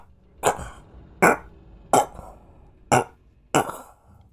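Voice imitating a burp, five separate croaky belch-like bursts spaced under a second apart, close and fairly loud, with quiet gaps between them.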